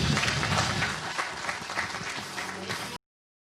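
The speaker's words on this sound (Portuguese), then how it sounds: "uma salva de palmas" Audience applause at a developer meetup talk, a steady wash of many hands clapping at moderate distance that tapers slightly before cutting off abruptly.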